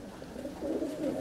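Pigeons, likely fancy or display birds, give low soft coos in a short burst, faint and fairly distant, with a slight swell in the second half and no voices present.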